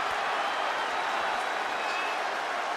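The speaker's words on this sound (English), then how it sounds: "you hear this capacity crowd following you on that journey" Arena crowd in the WWE 2K23 wrestling game, a steady wash of cheering and applause heard beneath a commentator talking.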